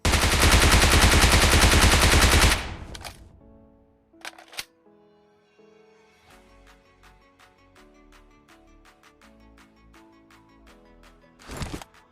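Gunfire in the PUBG Mobile battle royale game: a loud opening blast of noise, then scattered sharp shots and a quick run of rapid clicking reports, ending with another close burst.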